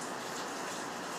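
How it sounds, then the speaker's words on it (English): Rain falls outside a kitchen with a tile counter, a soft, steady, even hiss of drops on surfaces, faint and continuous with no voices. "inside here is getting warm, the rain is falling"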